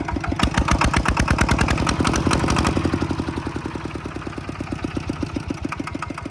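A Kubota ET95 single-cylinder diesel engine idles with a steady, even chugging beat, close and fairly loud throughout, easing slightly in level partway through.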